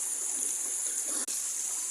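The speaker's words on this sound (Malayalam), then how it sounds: "നമ്മുടെ നാട്ടിൽ വെള്ളച്ചാട്ടം എന്ന് പറഞ്ഞ സ്ഥലത്താണ് നിൽക്കുന്നത്." A small waterfall trickles down rocks from a hill, running thin because of little rain: a faint, steady, hissing rush of water, distant and unbroken apart from a brief dropout, with no voices.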